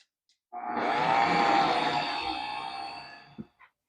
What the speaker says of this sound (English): with my dough hook attachment, I'm going to mix this on low first